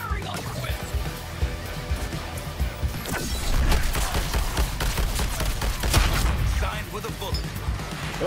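Gunfire in the Suicide Squad: Kill the Justice League video game, dense rapid shots and crashing impacts in a continuous loud barrage with game voices mixed in.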